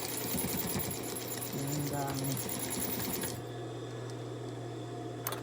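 A sewing machine back-stitches a fabric face mask with a close, steady mechanical whir, which stops abruptly partway through. A voice briefly speaks over it.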